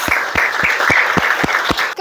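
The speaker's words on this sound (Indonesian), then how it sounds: "Tepuk tangan untuk Hanes" Applause for a student presenter at a classroom teaching assessment, dense clapping from a small audience lasting two seconds, with periodic low thumps and faint voices mixed in.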